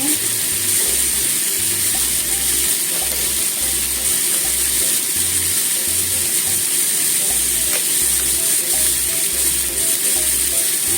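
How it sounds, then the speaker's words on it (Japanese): Sweet potato stems and fried fish cake stir-frying in a pan, a loud, continuous close-up sizzle with steady hiss and faint stirring, no voices. "さつま揚げも一緒に炒めます。"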